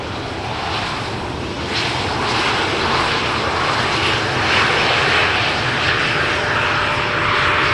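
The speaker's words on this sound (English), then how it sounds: "So this SunExpress in a special livery." SunExpress airliner in a special livery at Amsterdam Schiphol Airport on runway 18R, a loud continuous broadband engine roar that holds steady and swells slightly as it passes close by.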